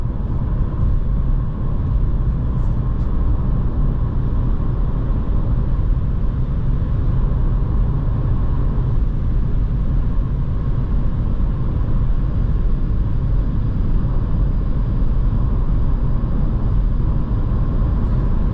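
A 2022 VW Taigo on winter tires accelerates toward 130 km/h, heard from inside the cabin as a constant broad rumble of road, tire and wind noise with no talking.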